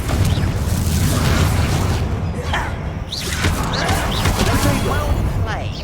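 Confringo blasting spells from Hogwarts Legacy go off in a magical duel, with booming bursts and crashes inside a dense, loud wall of combat noise, mixed with other spell effects and voices.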